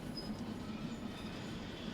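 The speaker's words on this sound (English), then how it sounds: "I will disconnect the train, let it keep rolling" A freight train rolls on after being uncoupled in the railway simulator Derail Valley, producing a soft, steady rumble of wheels on track with a faint metallic hum, even and unbroken throughout.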